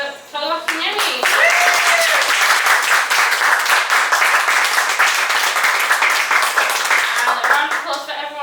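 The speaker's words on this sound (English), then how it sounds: "Can we have another big round of applause for Tolu Akinyemi?" Audience at a spoken word poetry event breaks into a big round of applause for poet Tolu Akinyemi, rising quickly after a brief voice and staying full and lively before tapering off, with some cheering mixed in.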